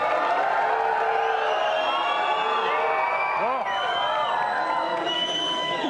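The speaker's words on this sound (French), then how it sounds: "vous pouvez les applaudir." French TV studio audience on a 1992 talk show applauding, cheering and jeering loudly and continuously, with shouts and whistles rising out of the steady crowd noise.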